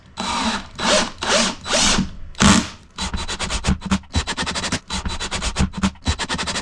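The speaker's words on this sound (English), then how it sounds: "now these ones are tapping themselves in and leaving a nice M5 thread" A power drill drives self-tapping M5 screws into pre-drilled aluminium sheet, first in a few long whirring bursts and then in rapid, choppy pulses with grinding bites, loud and close, with no talking.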